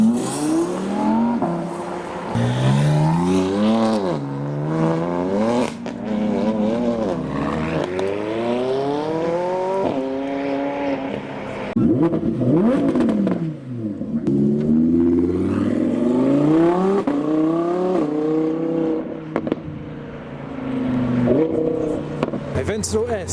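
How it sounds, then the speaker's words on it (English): An Audi R8 V10 at a supercar show revs repeatedly, its pitch sweeping up and falling back in a string of loud, close blips that run almost without pause. "So next up we've got the Audi R8 V10."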